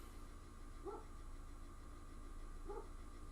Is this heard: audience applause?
no